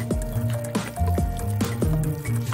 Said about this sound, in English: Remove the parts from the pen, then fill the casing with glue.